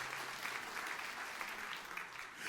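Sustained applause from a church congregation at a Christmas Day service, a dense, steady wash of many hands clapping at an even level throughout, with no voices standing out.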